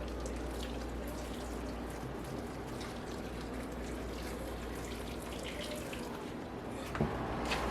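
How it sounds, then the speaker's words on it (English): Hot boiled water pours steadily into a pot of meat for pondu for several seconds, a constant splashing rush with a faint knock near the end; no one speaks. "and I'm going to add the hot water"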